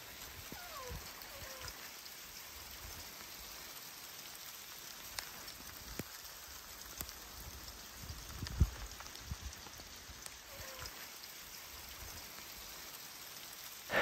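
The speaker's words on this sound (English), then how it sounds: "We got quite a bit of rain in that short amount of time" A rain shower with some hail beats on a house roof in the woods, a soft steady patter with scattered drips and a few louder knocks, fairly faint and continuous throughout.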